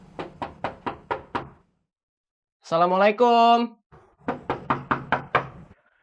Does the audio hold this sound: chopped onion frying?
no